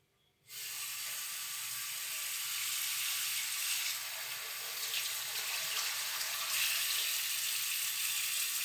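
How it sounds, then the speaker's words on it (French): Water runs steadily from a tap into a sink, with faint clinks and scrubbing as a saucepan is washed under the stream. "Vous n'oubliez évidemment pas de laver votre casserole"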